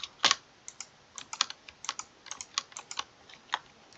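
Quick, irregular clicking of computer keyboard keys, a close and fairly quiet burst of typing with short pauses between key presses and no voices.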